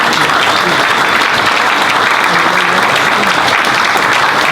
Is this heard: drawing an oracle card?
no